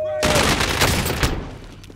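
Heavy gunfire in a video game shootout, a sudden loud volley of rapid automatic shots that bursts in and rattles for over a second before fading, with players shouting over it.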